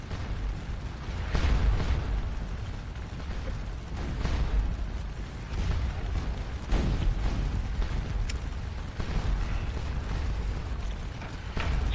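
Distant artillery booms and explosions roll across a Napoleonic battlefield in the Scourge of War Waterloo game, irregular muffled thumps and rumbles over a steady low background.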